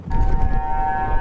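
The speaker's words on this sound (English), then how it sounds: "From blaring sirens in Evanston," A blaring civil-defense-style siren sounds a steady sustained tone during a snow emergency in Evanston, Illinois, loud and continuous over a rumbling low background for about a second.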